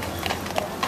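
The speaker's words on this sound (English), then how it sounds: "horse carriage" Hooves of a carriage horse clip-clopping on the street by the colonnade in Marienbad, Czech Republic, a few sharp knocks spaced irregularly over a steady outdoor background.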